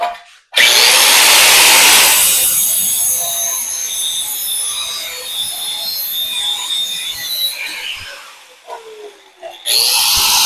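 A loud power tool shrieks through metal, cutting off release pieces for a custom heat coil mount on a powder coating oven; the harsh grinding runs several seconds, eases and fades, then snaps back at the end.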